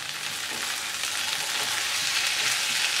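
Boiled potatoes fry with spices in a hot pan for a Kerala potato stir-fry, giving a steady, dense sizzle with soft scraping as a spoon mixes them, close and continuous without talk.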